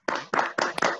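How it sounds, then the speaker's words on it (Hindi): An audience at a Modicare business talk claps in a few loud, close rhythmic bursts, brief and uneven, with no voices over them. "थोड़ा इन तीनों के लिए थोड़ा जोरदार ताली लगा दो"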